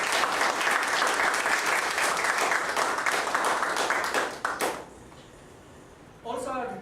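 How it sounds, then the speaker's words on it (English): An audience at a meeting gives a dense burst of clapping that lasts several seconds and then tapers off abruptly, followed by a short pause before a voice begins speaking. "Big round of applause to Ajay and Pramila who have agreed to become."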